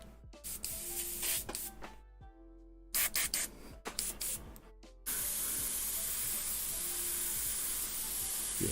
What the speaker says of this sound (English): it still sprays, that's good